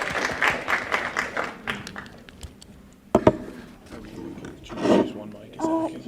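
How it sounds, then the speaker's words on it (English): Audience applause at a startup pitch competition, scattered clapping with taps and a few louder hand claps, mixed with nearby talking. "So let's give them a round of applause, everybody"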